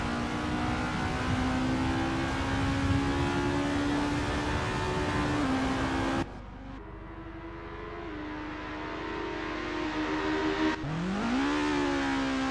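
Formula race cars roaring around the Kyalami circuit in Assetto Corsa, a loud sustained engine whine that holds steady, drops sharply after a gear change, then climbs again as revs rise, with no talk.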